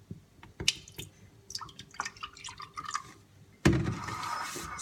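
Water pours steadily into a measuring cup while Swedish saft is being made, a sudden rushing stream that starts partway through after a few soft clicks and drips.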